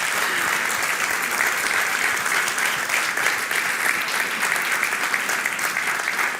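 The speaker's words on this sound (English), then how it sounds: "I think you can start applauding again because you should see the atmosphere in this room" A room full of people at a satellite launch viewing applauds, a dense, sustained wash of clapping that holds steady for several seconds.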